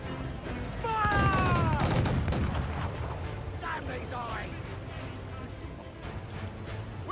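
Cannon broadsides from a sailing warship in Assassin's Creed IV: Black Flag, a heavy booming burst near the start followed by rumbling fire and a sustained roar of battle, with game voices and shouts mixed in.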